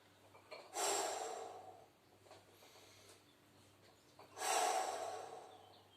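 Two strong, breathy exhalations during a dumbbell strengthening exercise, each a loud airy rush followed by quieter inhaling, spaced a few seconds apart with no talking.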